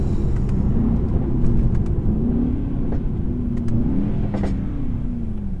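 A 2019 Mercedes E63S engine pulls hard from the driver's seat, its deep V8 growl climbing in pitch through successive gear changes, loud and continuous in traffic.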